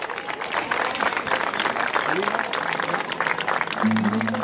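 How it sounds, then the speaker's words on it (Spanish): Crowd applause follows a choir performance at a town concert, a busy spread of clapping with some voices mixed in, and a sustained tone creeps in near the end. "Fuerte esos aplausos, che."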